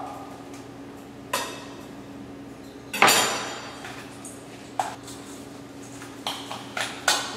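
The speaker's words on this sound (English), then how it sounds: "Garlic. I'm just going to smash it. Give it a rough chop." A knife smashes and roughly chops garlic on a board: one heavy smash followed by scattered sharp chopping knocks, close and fairly loud, with a low steady kitchen hum underneath and no talking.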